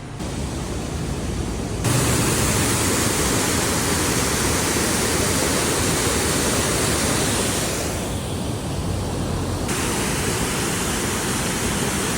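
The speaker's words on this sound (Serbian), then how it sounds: "Ovde je vodopad, ako se čuje." Steady roar of a waterfall beside the Transalpine road in Romania, loud and continuous broadband rushing that holds without pause, shifting slightly in tone midway, with no voices.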